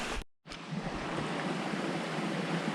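Creek water that has washed over a hillside trail rushes in a steady, close, full roar. There is a brief dropout right at the start.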